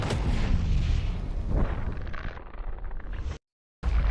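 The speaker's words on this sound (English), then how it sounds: "RPG versus Human Torso. Firing in 3," A rocket-propelled grenade is fired in a video game and blows up: a loud booming blast opens, followed by a rumbling, decaying explosion tail. The sound cuts to silence briefly near the end.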